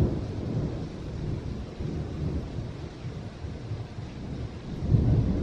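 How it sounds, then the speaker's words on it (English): Steady heavy rain pours with a deep rumble of thunder rolling throughout, swelling louder near the end. "it's storming and raining outside"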